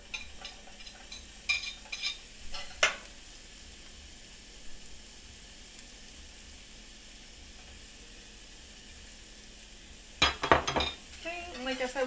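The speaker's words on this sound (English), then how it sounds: "and we're going to add our shallots" Shallots added to a pan over medium heat for risotto Milanese, sizzling softly and steadily, with a few brisk stirring scrapes and clinks of a utensil near the start and again at the end.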